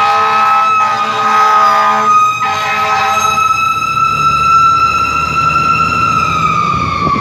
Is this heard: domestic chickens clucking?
no